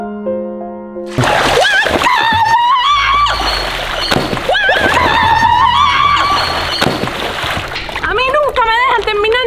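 Someone falls into water with a sudden splash that bursts out after a quiet start, followed by ongoing sloshing under loud, excited children's voices and shouting.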